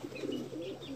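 Pigeons cooing around a pigeon loft, a soft, steady low murmur of overlapping coos with faint higher chirps, continuous and fairly close, with no talk.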